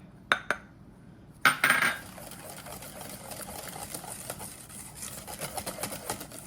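Utensil clatter and scraping as brown sugar is mixed into banana oatmeal bar batter in a bowl, two sharp clinks early, then a louder burst of rattling followed by steady soft stirring and scraping, close and alone.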